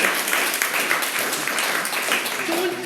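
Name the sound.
audience applause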